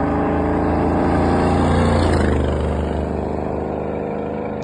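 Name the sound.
car driving by at speed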